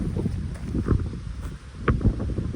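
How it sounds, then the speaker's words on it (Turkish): Strong wind on farmland buffets the microphone in a continuous low roar with gusty swells and occasional rustling bursts. "Havada da bir rüzgar var. Bayağı rüzgar var."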